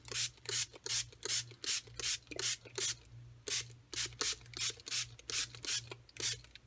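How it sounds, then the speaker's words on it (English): A hand spray mister spritzes water onto an embossed paper card, making a quick run of short, sharp hissing bursts, close and fairly quiet, about two to three per second with brief pauses between. "So I am going to take my mister and just mist it."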